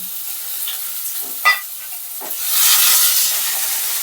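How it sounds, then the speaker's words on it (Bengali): Chopped onion, tomato and torn green chillies hit hot oil, giving a steady hiss and sizzle that swells louder toward the end, with a couple of brief stirring clatters along the way. "কেটে রাখা পেঁয়াজ আর টমেটো যেটা আমি কেটেছি সেগুলো তেলের মধ্যে দিয়ে দিচ্ছি"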